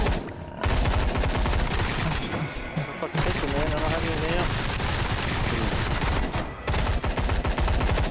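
Rapid, dense pistol gunfire in the horror shooter Sker Ritual, firing almost without pause through the clip with brief gaps, amid chaotic game noise and overlapping voices.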